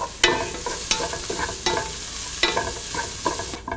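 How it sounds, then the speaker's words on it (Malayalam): Onion sautéing with chilli powder, turmeric and garam masala over a low flame for aloo gobi, a steady close sizzle broken by several sharp scrapes and clinks of a spoon stirring in the pan, with no voices. "ഫ്ലെയിം ലോയിൽ വച്ചതിന് ശേഷം ഇതിലോട്ട് എടുത്തു വച്ചിരിക്കുന്ന മുളക് പൊടി, മഞ്ഞൾപ്പൊടി, ഗരം മസാല എന്നിട്ട് വഴറ്റുക."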